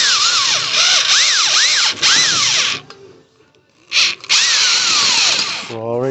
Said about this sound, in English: So drill through that.